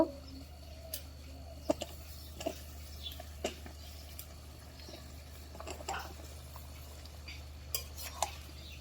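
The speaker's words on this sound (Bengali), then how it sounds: "তরকারি আর মশলা একসাথে কষামো তরকারিটাও সিদ্ধ হয়ে যাবো মশলাও কষানো হয়ে যাবো" A spoon scrapes and taps in a pan while vegetables are cooked down with ginger-garlic paste and spices, with sparse clicks and soft stirring over a low steady hum, close and quiet.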